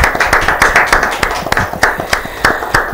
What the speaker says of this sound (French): On t'acclame.